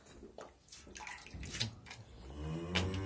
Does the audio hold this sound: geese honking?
no